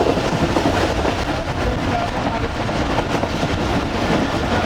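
The Musa Pak Express railcar runs steadily near Sanga Manga railway station, giving a loud, continuous rumble with rattling clickety-clack from the wheels and no talk.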